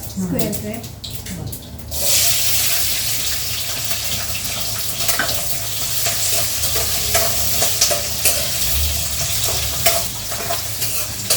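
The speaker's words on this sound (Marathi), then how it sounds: "आता तेल आपलं तापल्यानंतर आपण त्याच्यात थोडेसे जिरे घालून घेतलेले आहेत अगदी अर्धा चमचा कसुरी मेथी त्यात घातलेली आहे" Cumin seeds and dried fenugreek leaves (kasuri methi) sizzle loudly in hot oil in a home kitchen, with a steady frying hiss broken by scraping stirs of a spoon in the pan, while someone talks briefly at the start.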